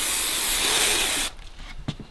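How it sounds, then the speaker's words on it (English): Adhesive glue sprays onto fabric during van trim work, a loud continuous hiss that stops abruptly, followed by faint handling noises. "We'll also be spraying the back side of the fabric as well."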